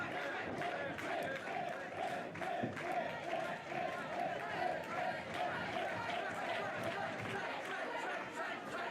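A wrestling crowd cheers and chants throughout, a continuous roar of many voices with shouts rising and falling, heard somewhat distant under commentary.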